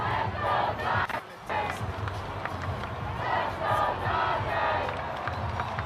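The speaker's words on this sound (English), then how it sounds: "the crowd is chanting, "Let's go Dodgers."" Dense parade crowd in downtown Los Angeles celebrating the Dodgers' World Series win, loud and continuous with rhythmic surges of massed shouting like a chant, steady throughout with a brief dip near the middle.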